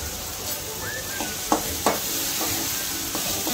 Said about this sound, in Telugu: అల్లం కూడా బాగా వేగాలి.